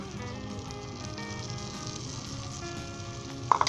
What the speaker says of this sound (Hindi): 1 टेबल स्पून के करीब आप मक्खन डाल दें इसके ऊपर, जैसे ही मेल्ट हो फिर आप इसके ऊपर ऑमलेट डाल दें।